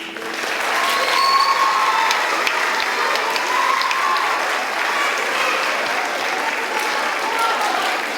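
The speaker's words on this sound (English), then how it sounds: "Let's have one more round of applause for our soloists, please." An audience at a middle school band, choir and orchestra concert applauds the soloists, a loud, sustained wave of many hands clapping that fills the room from start to finish.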